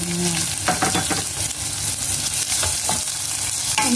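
Ginger and chopped onion frying in a pan, a loud, steady sizzle broken by repeated stirring scrapes.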